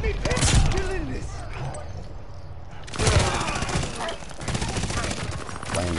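Bursts of automatic gunfire and explosions in a Call of Duty Vanguard free-for-all match, loud and near, with dense rapid firing mixed with game voice lines and talk.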